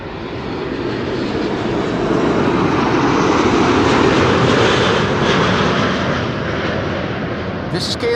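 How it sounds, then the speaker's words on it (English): A KLM Boeing 777-200 returning from Las Vegas lands at Schiphol, its heavy engine roar building to a loud, rumbling peak near the middle before tapering slightly. "This is KLM flight 636, 777-200. It is returning from Las Vegas."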